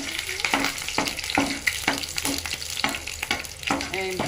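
Green chilies frying in hot oil for samosa cooking, a steady close crackling sizzle broken by repeated rhythmic scraping stirs, with no talk.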